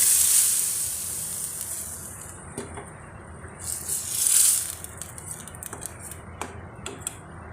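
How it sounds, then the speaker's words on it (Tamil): Cooked lentils poured into sautéed onions in a pan for Kongu-style uppu paruppu, a steady sizzle under a rattling, wet pour with several sharp utensil clicks against the pan. "வெங்காயம் நல்லா வணங்கிடுச்சு இப்போ கலஞ்சி வச்ச பருப்பை உள்ளே ஊற்றிக்கலாம்"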